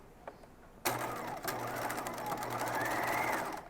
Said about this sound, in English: I'm just sewing my shoulder seam as usual